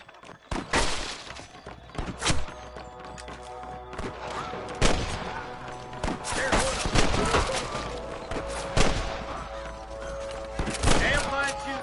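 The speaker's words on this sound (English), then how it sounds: "I can hear more gunshots." Gunfire shootout in Red Dead Redemption: repeated sharp gunshots and bursts crack across the clip, some near and loud, others overlapping, with a shattering, breaking edge and a steady background din.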